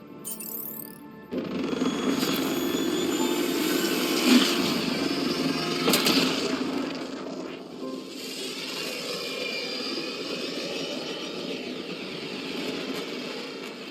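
The Tempest spaceship from Mass Effect Andromeda powers up for departure with a loud, sustained engine roar and rising whine, layered with shifting mechanical hums and bursts of thrust, no voices heard.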